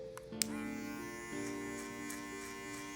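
Electric hair clippers cut a burst fade, giving a steady close-up motor buzz with a rich harmonic hum throughout. A small click sounds near the start.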